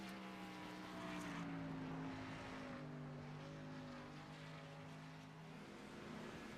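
Race cars running practice laps at Watkins Glen International Speedway, a faint, steady engine drone with pitch slowly sliding as cars pass at a distance.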